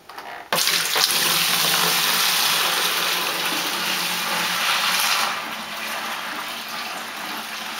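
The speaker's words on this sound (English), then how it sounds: "And then I'm going to dump it in this bucket to aerate it so the yeast has ample oxygen to grow." Beer wort for a Cincinnati pale ale is poured from a vessel into a bucket, a loud continuous rushing splash that starts abruptly and eases slightly toward the end.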